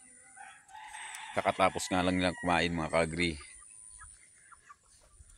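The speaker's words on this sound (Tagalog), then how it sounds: "So ayan yung mga manok natin mga ka-agri." Native chickens in a breeding pen cluck and crow softly in the background, largely covered by someone talking close by.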